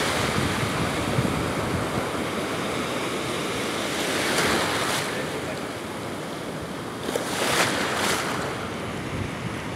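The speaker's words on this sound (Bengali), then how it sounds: "দেখতেই পাচ্ছেন বন্ধুরা কি পরিমাণ তীব্র বেগে বয়ে আসছে ঢেউগুলো।" Sea waves at Laboni beach in Cox's Bazar, a continuous roar of surf with wind, swelling into louder crashing breakers twice as waves break nearby.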